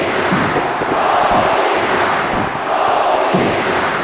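Wrestling arena crowd in Detroit, Michigan cheering loudly, a dense, steady roar of many voices with slight swells throughout.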